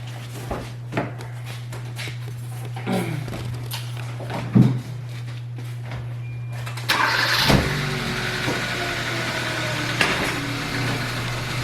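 A 2015 Hyundai Accent rolls off metal ramps onto a concrete floor, its idling engine humming steadily before a louder burst of engine and tyre noise as it drives away, with a few clunks along the way.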